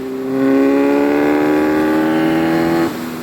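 A 2014 Kawasaki Z1000 motorcycle pulls a sixth-gear roll-on, its engine note climbing steadily and loudly in a smooth drone before easing off near the end, with no talking.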